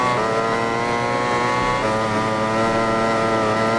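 A Honda MotoGP racing motorcycle engine revs hard and loud, its sustained high-pitched whine holding steady as it accelerates at full throttle during a 2021 race.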